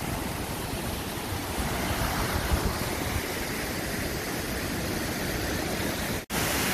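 Düden waterfall in Antalya, Turkey, pouring and spraying as a steady, dense roar of rushing water heard close up, continuous and unbroken apart from one short dropout near the end.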